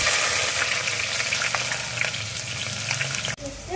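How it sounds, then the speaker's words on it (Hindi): Onions sizzling as they fry in half a cup of hot oil for Hyderabadi chicken biryani, a dense, steady crackle held close up with a few stirring knocks, then cutting off abruptly near the end. "1/2 कप जो है वो ऑयल को गरम कर लिया है। हम अब इसमें प्याज ऐड करेंगे।"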